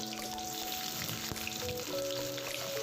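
Chopped onions fry in oil with cumin seeds, giving a soft, steady sizzle with faint popping throughout, fairly quiet and close, with a light tonal hum in the background.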